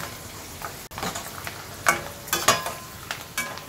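Homemade potato chips dropped into hot oil, frying with a steady crackling sizzle and sharper bursts of bubbling as the slices settle; close and fairly clear, with no talking.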